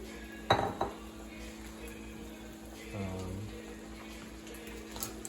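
Food scraped and tipped from a pan into a bowl while making marinara cheese chicken, with a couple of sharp metal-on-dish clinks near the start and a soft scrape later, close and fairly quiet.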